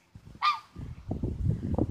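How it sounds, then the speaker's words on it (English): A duck gives one loud, nasal honk close at hand, followed by low murmuring voices and rustling handling noise. "this is the closest I've ever been to a duck"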